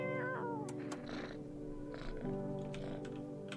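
Cat meowing in the video game No I'm Not A Human, a few drawn-out meows over a steady background of music or ambience, fairly quiet overall.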